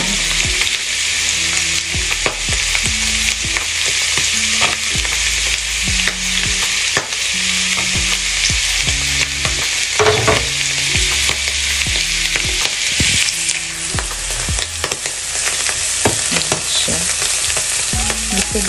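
Onions frying in a pan with a loud, continuous close sizzle and occasional stirring scrapes, with no voices.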